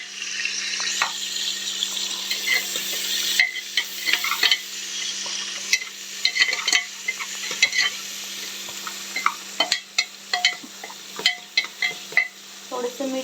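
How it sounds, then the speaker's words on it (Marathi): Chopped onions with curry leaves frying in a pan, a steady close sizzle broken by frequent stirring clinks and scrapes of a spoon against the pan, with no talk. "आता कांदा छान भाजून घेऊया."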